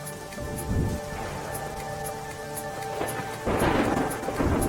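Heavy continuous rain in Gujarat, a steady close hiss of downpour with brief louder surges and a low rumble underneath, no voices.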